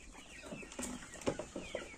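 Chickens cluck and peep around a yard with young chicks, a few short close calls scattered through quiet outdoor background.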